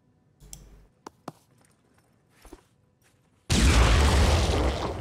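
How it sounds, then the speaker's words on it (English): Grenade explosion in the turn-based video game Phoenix Point: a few quiet clicks and soft pops, then a sudden loud blast that roars on as a sustained burst through the final seconds. "So close to being able to lob a grenade."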